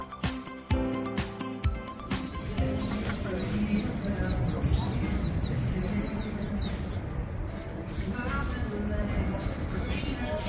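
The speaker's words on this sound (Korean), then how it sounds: "새소리 들으셨어요?" Birds singing outdoors near a cable car station at Jasan Park in Yeosu, with scattered chirps over busy ambient noise and some voices in the background.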